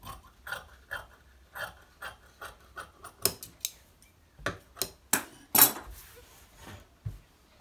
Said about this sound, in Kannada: ಕಟ್ ಮಾಡಿಬಿಡ್ತೀನಿ ಇದನ್ನ.